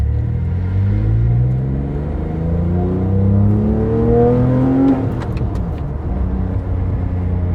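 A Porsche 997 GT3 RS engine roars up through the revs close by while driving, pitch climbing steadily before a shift and a rough drop, loud and unbroken.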